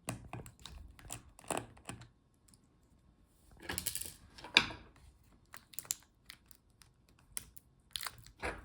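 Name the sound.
unscrewing laptop battery screws, Dell XPS 13 9300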